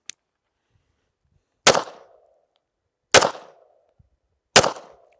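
Three sharp pistol shots ring out during a beginner shooting drill, evenly spaced about a second and a half apart, each loud and close with a short decaying tail, separated by silence.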